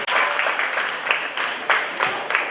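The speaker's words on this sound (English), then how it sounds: "So let's give a hand of applause for Coach Fofo." Steady applause at an annual banquet honouring a long-serving coach: a crowd claps continuously for a couple of seconds with a few slightly louder swells and no voices over it.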